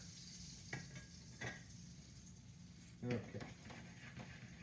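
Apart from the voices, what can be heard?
salmon piccata frying in a pan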